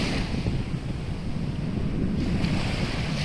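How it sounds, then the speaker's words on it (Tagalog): Sea waves crash strongly and wash steadily on a shore, a continuous rushing roar with wind buffeting the microphone. "Doon malalakas yung alon dito."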